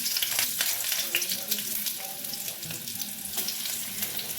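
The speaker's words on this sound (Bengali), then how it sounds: "তেলটা গরম হয়ে গেছে আর এক এক করে আমি দিয়ে দিচ্ছি" Chicken kebab pieces sizzle steadily in hot oil in a pan, a dense continuous crackle with a few soft clinks from the pan, close and fairly loud with no talking.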